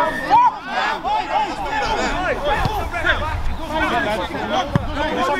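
Sunday league football crowd in Birmingham, a lively babble of many voices and shouts near the pitch, rising and falling over several seconds, with a few sharp calls standing out.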